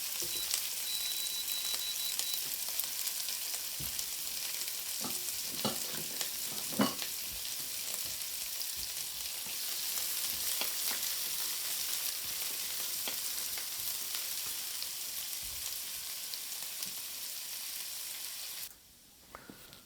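Coarsely chopped red onions fry in a Remoska Tria cooker with a steady close hiss and sizzle, scattered stirring clicks, cutting off abruptly near the end.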